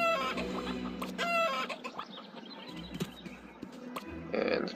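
Chickens cluck in the farm of the game School of Dragons, several birds giving short repeated calls with some clattering game sounds between them, moderately loud and alone.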